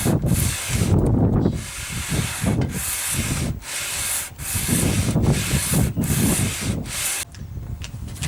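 Guitar fretboard rubbed with 60-grit sandpaper on a 14-inch radius block, close rhythmic back-and-forth scratchy strokes about one per second, loud and even, with no talking.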